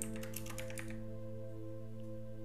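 Rapid keystrokes on a computer keyboard as a drive name is typed, a quick burst of clicks lasting about a second, then only a steady low hum remains.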